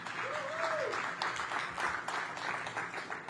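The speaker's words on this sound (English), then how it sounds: "Let's give her another round of applause." An outdoor crowd at a groundbreaking ceremony for a new community space gives a steady round of applause, fairly soft and distant. A brief voice rises over the clapping near the start.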